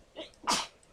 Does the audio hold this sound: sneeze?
yes